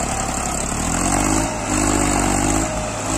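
A Massey Ferguson 7235 tractor engine labours under load while pulling a 910 cultivator through a field, a loud, close, continuous diesel drone with slight swells in effort and no talk.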